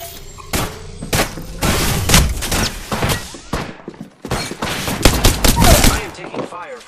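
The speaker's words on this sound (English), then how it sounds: "I am taking fire, friends." Rapid bursts of gunfire from a shooter video game crackle almost continuously, loud and close, with short pauses between volleys and a trailing explosive thump.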